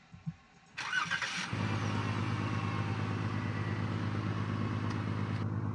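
A small vehicle appears in a Roubaix roleplay video game. A short burst of noise is followed by an engine that starts and settles into a steady, fairly loud idle hum that holds to the end.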